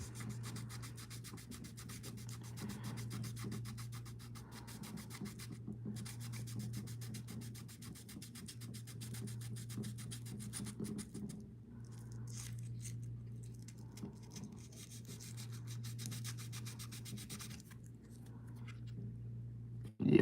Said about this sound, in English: I need to sand this whole thing down big time.